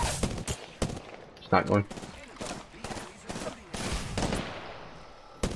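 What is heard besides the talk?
gunfire in a video game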